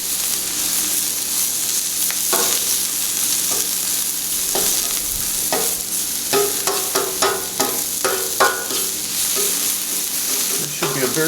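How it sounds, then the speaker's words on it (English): Vegetables sauté on a Blackstone flat-top griddle with a loud, constant sizzle, broken by scraping and tapping of a spatula as they are stirred and turned, with no talking. "I'm going to saute this stuff, then I'll put it back on this plate."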